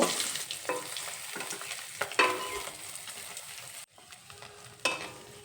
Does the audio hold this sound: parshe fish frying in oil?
yes